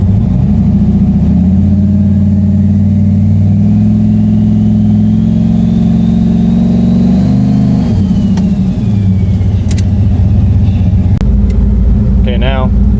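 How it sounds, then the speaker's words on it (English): A Chevy S10 with a swapped LS V8 revs hard and holds high on the foot brake with no two-step, a loud steady engine drone that drops back near the end and then climbs again. "I'm going to do just foot brake, no two-step, and see what kind of boost we get."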